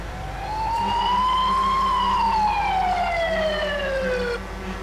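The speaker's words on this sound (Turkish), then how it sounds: "Serhat bu ambulans sireni" An ambulance siren wails loudly and close by, a single long rising and falling tone over a low engine rumble.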